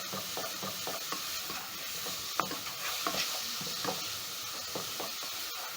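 Pigeon pea (mbaazi) curry with a beef stock cube being stirred in a pot, a close, continuous sizzle with a rhythmic series of scraping spoon strokes and small clicks throughout, no voices.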